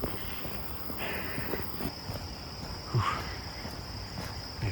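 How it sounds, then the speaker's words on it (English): Insects chirp along a village path in Sha Tin, Hong Kong, a constant high, thin drone with faint scattered rustles and footsteps underneath, quiet and ambient. "I feel like there's insects basically everywhere"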